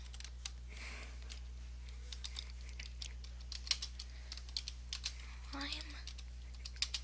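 Keys on a computer keyboard clack in quick, irregular bursts of close clicks. A voice murmurs briefly during the typing, over a low electrical hum.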